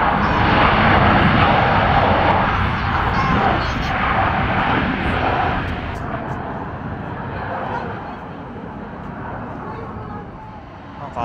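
Loud, rumbling roar of a JAL passenger jet landing nearby, swelling early then slowly fading, with a voice speaking faintly underneath.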